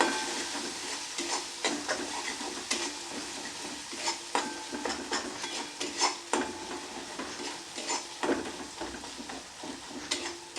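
Tomato sautés with chili and cumin powder in a pan, a close sizzle broken by repeated rhythmic spatula scrapes and soft clanks against the metal, with no voices.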